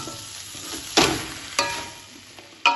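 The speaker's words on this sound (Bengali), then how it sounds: "চিংড়িটাও সব মশলার সাথে শাকের সাথে আবারও 1-2 মিনিট নাড়াচাড়া করে নেব।" Prawns being stir-fried with pumpkin stem greens and spices in a pan: a low sizzle runs underneath three sharp spatula scrapes, close and fairly loud, spaced about a second apart.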